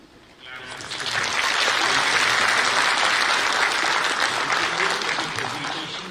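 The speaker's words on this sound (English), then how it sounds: "give a big clap" Audience applause at an international ecological society conference, swelling quickly into steady, dense clapping from a sizeable hall crowd that holds for several seconds before starting to fade.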